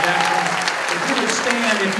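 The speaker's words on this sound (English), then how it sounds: "give a round of applause to our military and our veterans" A town hall audience in Flat Rock, North Carolina applauds military members and veterans with steady, dense clapping, while a voice carries on over the top.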